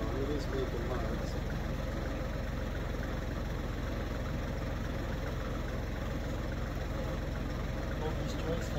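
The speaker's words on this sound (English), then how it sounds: "Tractor at idle so I don't get too rough on it all" A tractor engine idles at low speed, a steady low rumbling drone holding constant at moderate distance, with someone talking faintly over it.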